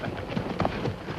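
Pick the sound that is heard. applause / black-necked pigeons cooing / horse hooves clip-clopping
horse hooves clip-clopping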